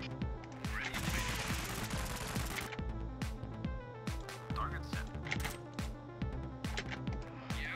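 Volley of weapons fire in the vehicle combat game Convoy, a dense rapid barrage of sharp cracks and booms layered continuously over in-game music and effects.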